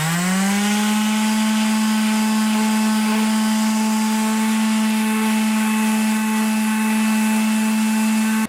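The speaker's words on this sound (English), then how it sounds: "I'm going to try and do it as flat as possible with a pad sander" A pad sander grinding bedding material off a Civic brake pad, a sustained steady electric whine with a strong, unchanging tone that runs loud and continuous for several seconds with no talking.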